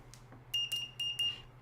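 An old 1990s electronic device emits a run of short, high, evenly spaced beeps close up over a low steady hum, followed by a sudden louder tone at the end.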